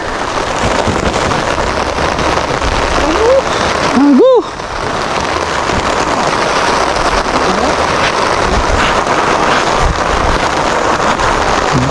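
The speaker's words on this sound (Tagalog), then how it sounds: "Abutan kami ulan, hindi natapos mga silo pagtakal oh." Steady rain pours down on farmers in a rice field partway through measuring and sacking harvested palay, making a dense, continuous hiss mixed with wind buffeting the microphone. A brief shout and some speech cut through midway.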